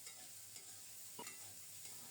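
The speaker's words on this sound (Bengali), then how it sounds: "বরবটি আর কাঁচামরিচ ঢেকে ঢেকে নেড়ে চেড়ে খুব সুন্দর মতো ভাজা হলে এখন দিয়েছি পেঁয়াজ কুচানো" Chopped onion being stir-fried with yardlong beans, flat beans and green chillies in a pan, a quiet steady hiss with a few soft scrapes of stirring, no voices.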